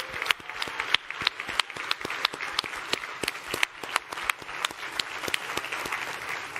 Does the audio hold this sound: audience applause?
yes